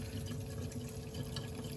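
Water running through a Xiaomi 1200G Pro water purifier, a faint, continuous trickling and splashing flow that holds steady at low level with no voices.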